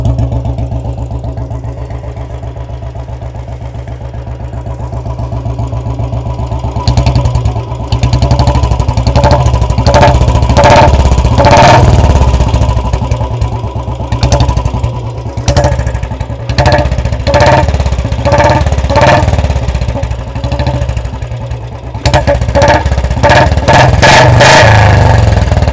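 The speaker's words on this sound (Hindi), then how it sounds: "चलिए आपको मैं ओल्ड बुलेट की सुनाता हूँ।" An old Royal Enfield Bullet motorcycle idles close by with a steady, deep thumping beat, broken by a few sharp throttle blips that briefly raise the revs. No one speaks.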